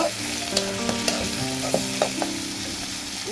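Onions frying in a pan with a steady broadband sizzle, punctuated by several sharp clicks and scrapes of stirring, close and alone with no voices.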